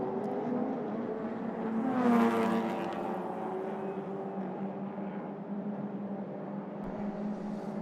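Historic single-seater race car, red and blue, sweeping past at a racing circuit; its engine note swells to a loud peak then fades into a steady drone from other running cars.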